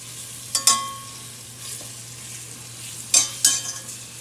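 Sausages fry in a pan for an Italian Napolitana ragu, a steady low sizzle broken by a few sharp spattering bursts as they are moved about, no talking.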